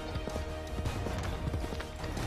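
Hooves of a galloping horse in the video game Assassin's Creed 3, a steady, fairly loud clip-clop rhythm running continuously over a dense background of game noise.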